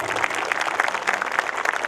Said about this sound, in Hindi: जोरदार तालियों के साथ सभी लोग।